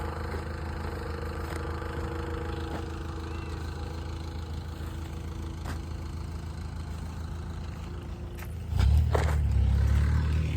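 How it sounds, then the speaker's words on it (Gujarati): A tractor engine idles in a steady low chug on a farm, then near the end a louder, rougher burst of engine noise rises abruptly. "હવે પપ્પા ટ્રેક્ટર બંધ કરવાની તૈયારીમાં છે"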